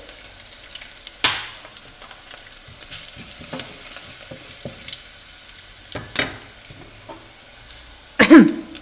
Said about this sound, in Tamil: பச்சை மிளகா போட்டு தாளிச்சிருங்க